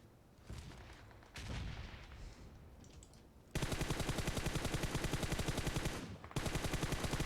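Rapid automatic gunfire in PUBG Mobile on the Erangel map: scattered shots and battle noise at first, then a long, loud, sustained burst of rapid fire with a brief pause before it resumes.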